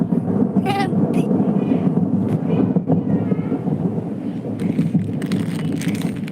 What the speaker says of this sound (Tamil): மழை பெய்யுது மழை பெய்யுது